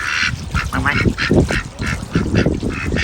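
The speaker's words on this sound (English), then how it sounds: "There he is, the duck of the hour." A duck by a garden pond quacks close and loud in a rapid series of repeated nasal calls with brief pauses, heard alone without talk.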